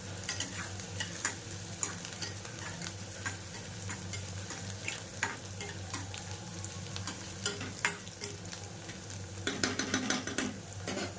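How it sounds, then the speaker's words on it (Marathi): Green chillies and garlic roast in a hot pan for a spicy radish bhaji, with a steady close sizzle and frequent scraping and clinking of a spatula stirring against the pan. No one speaks. "मिरची पण आता आपली छानपैकी भाजून घ्यायची।"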